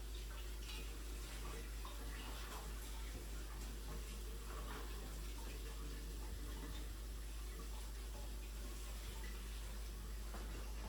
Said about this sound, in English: So then I'm going to put just a little bit of water just to make sure that we rinse it really well